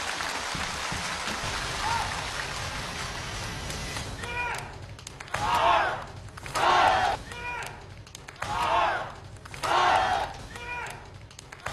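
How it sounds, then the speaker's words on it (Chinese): At a variety gala, a dense wash of audience applause greets performer Sun Haiyang's two-metre drop into a split, then fades into repeated bursts of loud voices and exclamations. "掌声送给他。"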